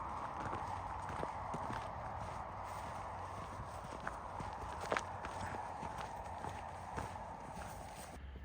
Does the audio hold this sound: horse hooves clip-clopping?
yes